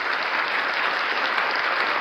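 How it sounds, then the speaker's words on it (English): Audience applause at a high school football touchdown club coaches show, a steady dense clapping that holds at even loudness throughout without pause. "A little bit of applause there."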